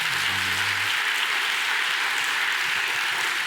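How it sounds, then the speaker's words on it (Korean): A church congregation at Sunday service breaks into welcoming applause, a loud, dense, steady roar of clapping filling the room, with a faint low hum at the start. "환영의 박수 한번 할까요?"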